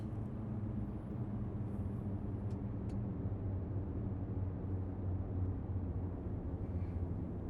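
Aircraft engine at idle power in Flight Simulator 2020, a steady low droning hum holding constant and fairly quiet throughout, with no other sounds.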